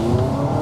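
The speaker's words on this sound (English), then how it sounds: "It squirted the wheels a little." Front wheels of a 2025 Honda Civic or Mazda3 turbo hatchback briefly spin under hard acceleration, a short loud burst of engine drone with a faint tire chirp, heard close.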